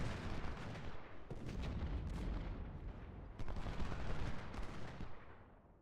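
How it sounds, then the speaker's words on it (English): Civil War battle in the strategy game Ultimate General: Civil War, with dense continuous rolling gunfire and booming artillery heard at a distance, fairly quiet and without talk. "Cook is getting hit by some artillery."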